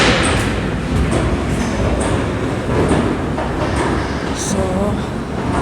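A Calgary C-Train rumbles through Southland station on a rainy rush-hour day, a broad, steady roar with rail clatter and high squeals, loud and close throughout.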